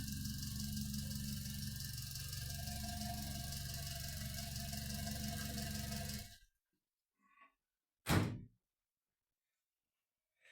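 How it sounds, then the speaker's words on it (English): A Morris Minor's 1098 A-series engine idles with a steady, busy mechanical run, timing chain rattle and a light rhythmic tapping, heard close before it cuts off into silence, followed by a brief distant knock and a sharp thud. "The typical sounds of the happy old A series, a bit of timing chain rattle, a bit of tapping noise."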